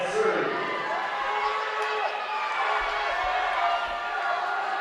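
Spectators at a high school volleyball match between Mountain Vista and Ponderosa keep up a steady crowd roar with cheers and shouts, with a few thuds and a dull hall ambience underneath.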